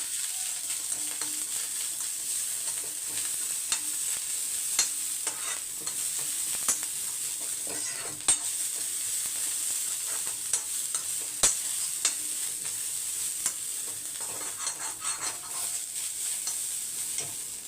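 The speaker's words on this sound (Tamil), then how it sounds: "இந்த தேங்காய் துருவலை இந்த நெய்யிலேயே அப்படியே வறுத்துக்கணும்" Grated coconut fries in ghee while being stirred, a continuous soft sizzle with frequent scraping clicks of the spoon against the pan, steady and close throughout.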